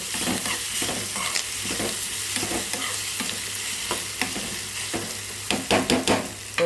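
Curry leaves tossed into vermicelli upma in a pan and stirred, giving a continuous close sizzle with repeated spatula scrapes and clinks against the pan, busier toward the end.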